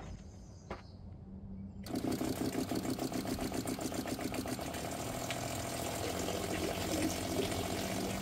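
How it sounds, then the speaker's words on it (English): New water pump in a teardrop trailer, outlet capped, kicking on after a few quiet seconds with a steady, moderately loud hum and rhythmic pulsing that continues to the end. "And here's what the new pump sounds like"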